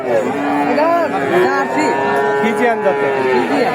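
A ten-month-old heifer at a livestock market moos loudly and close up, one long drawn-out low call with wavering pitch lasting several seconds, with faint human voices in the background.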